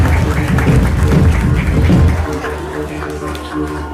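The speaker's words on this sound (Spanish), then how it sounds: "Fuerte los aplausos" An audience at a ceremony applauds loudly in a dense, steady wash of clapping that fades somewhat toward the end, with music or voices underneath.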